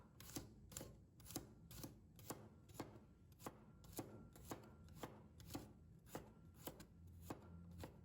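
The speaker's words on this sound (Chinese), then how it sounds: "然后一定要给它剁成蒜末。" A kitchen knife mincing thinly sliced garlic cloves on a board strikes in quick, regular chops, around fifteen close, quiet blows with no talking.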